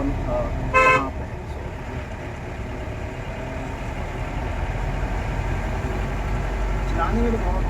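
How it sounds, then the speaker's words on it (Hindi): A single short car horn toot sounds near the start from a 15-year-old Mahindra Bolero Camper, over a steady idling engine rumble that continues to the end. "हॉर्न करेंगे, लेकिन अब इसका हॉर्न कहाँ पे है?"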